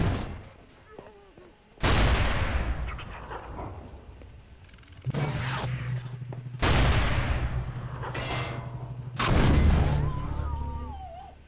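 Rifle fire in the game Half-Life 2: Episode 2 comes as four loud, close bursts of shots separated by quieter gaps, with a low rumble lingering between some volleys.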